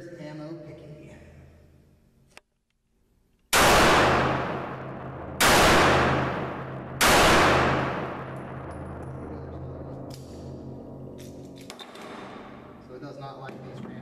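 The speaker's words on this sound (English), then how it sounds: "We'll try to shoot them anyway." A Kimber Micro380 pistol fires three loud, sharp shots at a measured pace, each with a long ringing tail, outdoors after a quiet lull, with faint handling noise between.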